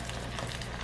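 Steady crackling sizzle of thin potato chips frying in hot oil, continuous and close, with no voices.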